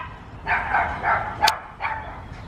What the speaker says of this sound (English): There's so many stray dogs in this neighborhood.